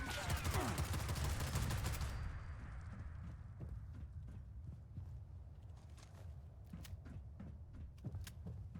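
Gunfire in the Fallout 76 video game: a loud, dense volley of rapid shots for about two seconds, then scattered single shots and cracks that sound quieter and farther off.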